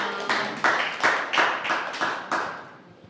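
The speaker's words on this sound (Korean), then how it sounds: "큰 박수로 맞아주세요." Scattered hand claps from an audience welcoming a speaker at a lecture, roughly six or seven separate sharp bursts over three seconds, fairly close and without talk.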